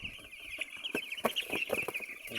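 One-day-old broiler chicks peep continuously in a high, shrill chorus, with a few soft knocks and clucks underneath. The sound is fairly faint and close, with no talking.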